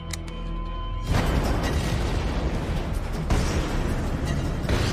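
A booby trap explodes in a war film with a loud, sustained blast that roars and rumbles for several seconds after a brief tonal lead-in.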